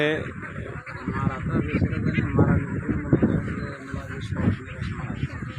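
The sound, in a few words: ducks on a duck farm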